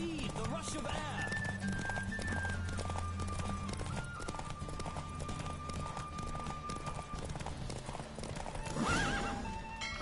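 A horse gallops hard through a race in The Witcher 3, its hooves drumming in a fast, steady rhythm with a brief whinny. Game music plays throughout and voices are mixed in.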